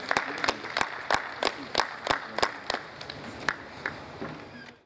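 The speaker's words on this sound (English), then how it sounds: "please a round of applause for him" Audience at a Nigerian business roundtable on the construction industry claps in response, with sharp, scattered hand claps from a modest crowd that thin out and fade toward the end.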